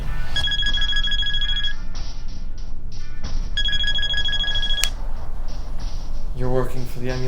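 A cell phone rings in repeated bursts of an electronic ringtone, loud and close, with pauses between rings and a background score running underneath.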